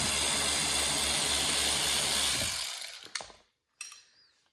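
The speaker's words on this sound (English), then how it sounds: "next we're going to take out this last screw right here, 15 Torx" A T15 Torx screw being backed out during an exterior LED kit install on a Corvette E-Ray or Z06: a loud continuous mechanical whirring for a couple of seconds, then a few sharp clicks after a short pause.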